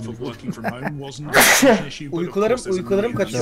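A single loud sneeze bursts out mid-conversation, close to the microphone, with men chatting in Turkish just before and after it.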